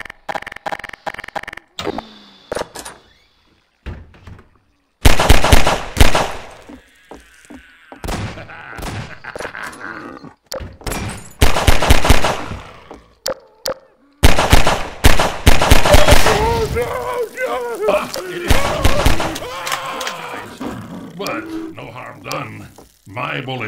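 Loud gunshots in Half-Life 2's Ravenholm, coming in sharp single blasts and rapid clustered volleys with quiet gaps between them, mixed with other game effects and a voice talking.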